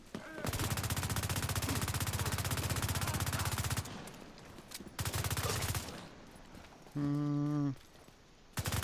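Teammates firing automatic guns in The Division 2, long sustained bursts of rapid fire that stop and restart, with a brief tonal electronic chime near the end.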